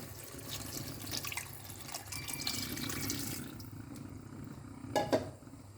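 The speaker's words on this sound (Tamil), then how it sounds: "இப்போவே தண்ணி ஊற்றிக்க போகிறேன்" Water is poured into a cooking pot while making vegetarian mushroom biryani, giving a steady, moderately quiet splashing stream that carries through most of the clip and ends in a brief louder splash near the end.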